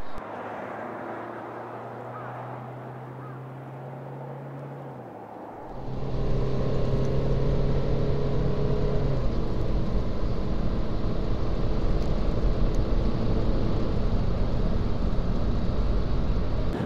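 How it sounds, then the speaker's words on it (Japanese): A Mini Cooper D Paceman diesel, 2.0 litre, cruises at high speed, a quiet low engine drone that swells abruptly into a loud, steady rush of road and wind noise partway through. "非常に高速のクルージングで、まあ、ディーゼルの音もあの静かです"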